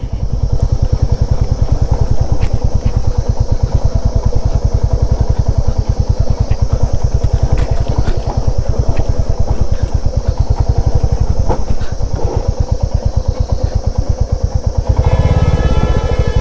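A motorcycle climbs a rough, dangerous mountain road on the Ghandruk to Jomsom route in Nepal, its engine thumping steadily and loud close up, with clattering from the bike throughout and no speech.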